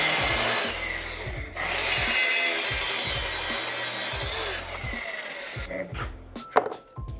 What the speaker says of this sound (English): I'll do it in 2 passes.